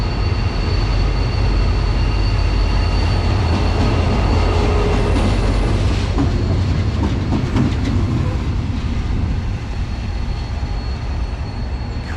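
Two Irish Rail 071 class diesel locomotives haul a train past a station platform in Ireland, a loud, close, continuous rumble of engine drone and steady tonal whine with rail clatter, holding for about twelve seconds before easing slightly at the end.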